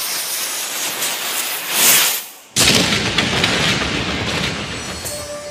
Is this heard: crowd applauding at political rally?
no